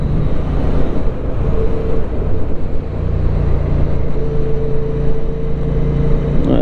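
A QJ Motor SRV550 motorcycle engine is heard on the move, a steady low rumble blended with rushing wind noise. The pitch shifts slightly as the bike holds its pace, with no talk over it.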